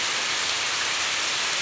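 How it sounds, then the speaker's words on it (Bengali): Heavy rain pours steadily onto a village pond, a dense, even hiss of countless drops close by with no pauses or voices. "অনেক বৃষ্টি হচ্ছে।"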